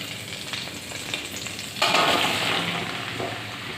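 Vegetables frying in a pan with a little oil give a steady close sizzle that swells louder partway through as more go in, with faint stirring scrapes and no talking.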